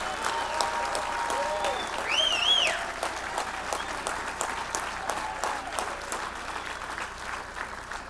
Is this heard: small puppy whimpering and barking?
no